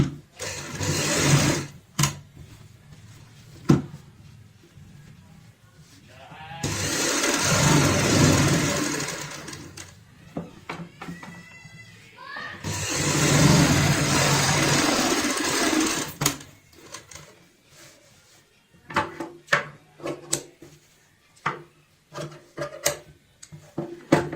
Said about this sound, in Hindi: अब इसमें भी हम यहाँ पलटते हुए इस साइड में सिलाई लगाएंगे।